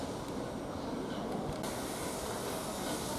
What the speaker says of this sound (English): Now here comes the steam train going from London King's Cross towards Norwich